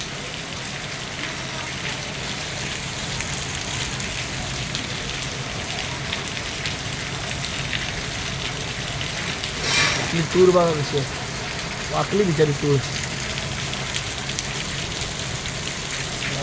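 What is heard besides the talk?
heavy rain falling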